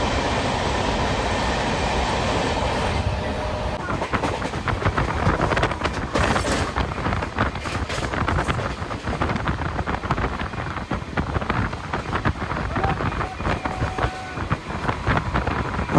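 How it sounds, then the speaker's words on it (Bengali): The Kanchenjunga Express runs at 110 km/h through Bhedia railway station in Birbhum, a continuous loud rumble and rattle of wheels on track with wind rushing, heard from inside the moving train. "আমাদের ট্রেন এখন সম্পূর্ণ 110 কিলোমিটার গতিতে ক্রসিং করছে ভেদিয়া রেলওয়ে স্টেশন"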